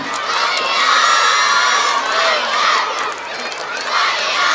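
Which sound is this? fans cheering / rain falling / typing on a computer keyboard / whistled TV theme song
fans cheering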